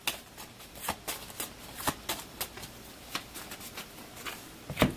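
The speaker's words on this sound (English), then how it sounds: "So I have to shuffle those." Game cards from the board game Undaunted 2200: Callisto are shuffled by hand: a faint, steady run of soft riffling snaps and taps, close by and with no talk over them.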